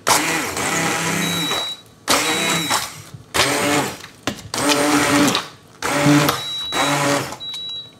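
A kitchen blender purées chestnut velouté in several loud, whirring bursts of a second or so each, separated by short pauses, with no talk.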